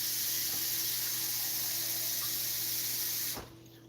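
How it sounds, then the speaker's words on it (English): Steady rushing stream of tap water filling a pot in a home kitchen, a continuous broadband hiss with a low hum underneath, cut off abruptly near the end as the faucet shuts. "I'm going to fill this with water."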